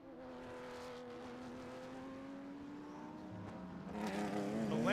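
Lamborghini race car at Sebring braking into a corner, its engine note steady then dropping and rising, moderately loud and growing louder near the end.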